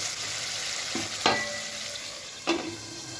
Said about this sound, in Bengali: এটাকে কিন্তু কম আছে ঢাকা দিয়ে দিয়ে কষতে হবে খুব ভালোভাবে